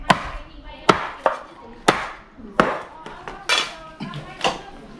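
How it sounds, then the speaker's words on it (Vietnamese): Cleaver strokes chopping goose giblets on a board, sharp separate knocks about once or twice a second, close and clear over a quiet background. "Cái lòng mề đang băm hết vào trong đấy."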